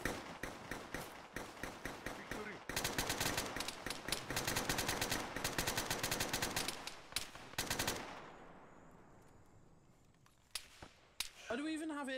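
Rapid gunfire crackles in a Beowulf Tactical Realism game battle: bursts of sharp cracking shots, first spaced then dense and continuous, close and loud, thinning to scattered shots near the end.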